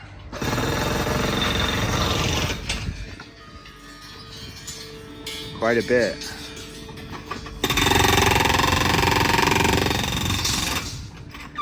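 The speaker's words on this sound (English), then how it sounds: "The little hammer works pretty good though." Loud, continuous mechanical hammering as a small chipping hammer breaks concrete in sustained bursts, with a brief pause and a short spoken remark in the middle before the chipping resumes.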